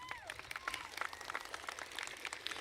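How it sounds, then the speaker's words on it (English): A graduation crowd at Tuttle High School bursts into steady, dense clapping for the speakers, a continuous patter of many hands, with faint voices mixed into the background. "Give them a round of applause."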